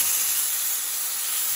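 A burger patty frying in a pan gives a steady, close, bright sizzling hiss that runs without a break throughout.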